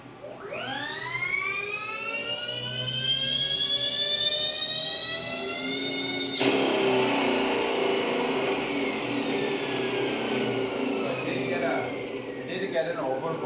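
An electric motor on an Axiom motor controller running at over 460 volts DC, a rising whine that climbs steadily in pitch as the RPM ramps up, then cuts into a broad roaring rush that slowly winds down.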